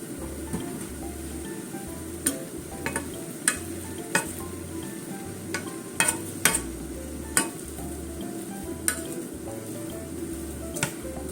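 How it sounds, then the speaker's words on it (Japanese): A cabbage pancake fries in a pan after being flipped, giving a steady close sizzle with scattered sharp pops and crackles over a low background hum. "はい 、裏も焼きたいと思います。"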